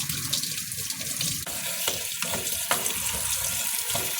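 Chili peppers rinsed under a running tap give a continuous close splash of water, with a few brief knocks and handling sounds breaking through.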